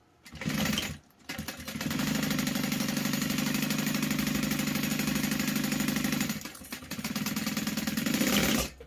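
Sewing machine stitching a half-inch seam allowance on a bag, a short burst, a brief pause, then a long steady run of fast rhythmic stitching, a second pause and another short run, close and fairly quiet.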